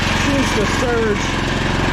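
A late-1990s Honda Harmony lawn tractor engine idles loud and close with a steady low rumble, its speed drifting in a slow surge while a person talks over it.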